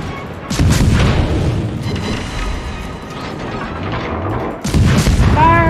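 Heavy guns of the battleship USS New York fire in the World of Warships video game, loud booming blasts with a sharp cannon report near the start and another near the end, a rumbling battle din between them.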